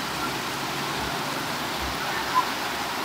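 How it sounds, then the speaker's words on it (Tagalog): Heavy rain comes down during a motorcycle trip, a dense, even hiss with faint low rumbling beneath. It holds steady throughout, and no one speaks. "Grabe kusog sa ulan,"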